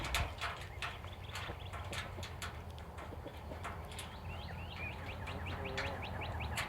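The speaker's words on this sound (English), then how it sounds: "Y'all hear all my pretty birds singing?" Songbirds chirp and call in short repeated bursts around a backyard area where nesting boxes are being assembled, sitting over a steady low background rumble with no talking.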